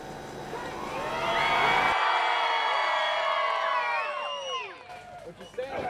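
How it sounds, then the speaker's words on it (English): A large crowd at a July 4th UIWA wrestling event cheers and whoops loudly, swelling then fading, with someone talking over the noise. "Look at all these people cheer for a guy in a truck."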